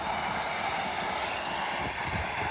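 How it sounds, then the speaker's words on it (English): A Northern Trains class 155 diesel unit runs through Colton Junction on the East Coast Main Line, heard as a steady, moderately distant rumble and rush of wheels and engine without a break. "Pass through now will be a Northern Trains 155 working a service from Bridlington to York"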